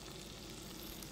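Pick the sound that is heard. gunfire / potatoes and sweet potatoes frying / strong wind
potatoes and sweet potatoes frying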